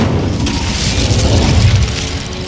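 An Incendio fire spell cast in Hogwarts Legacy: a loud, roaring whoosh-and-boom burst that swells and holds for a couple of seconds, thick and low with a hissing crackle on top.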